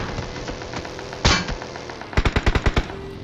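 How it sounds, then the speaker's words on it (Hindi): Gunfire in the mobile battle royale game PUBG Mobile: a single sharp shot, then a rapid burst of about seven close, loud cracks in quick succession, with no talking. "पहला फायर आया जो कि ब्रिज वाले घर से, दूसरा फायर आया पेट्रोल पंप से"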